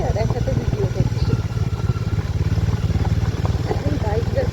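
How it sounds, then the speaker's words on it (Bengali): A motorcycle rides slowly, at about 18 km/h, along a rough off-road village track in Purulia. The engine thrums in a steady, rapid pulse throughout, loud and close, with a voice heard over it. "এখন বাইক যাচ্ছে"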